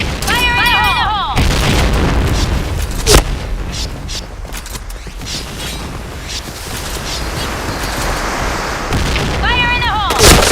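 Grenade blasts and heavy booms from the shooting game Point Blank hit loud and close amid scattered gunfire, with game voice lines heard at the start and end.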